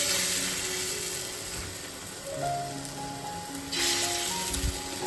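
Onion fritters (peyaji) dropped into hot oil in a kadai: a soft, steady, rain-like sizzle that swells briefly near the end, with faint tonal background sounds.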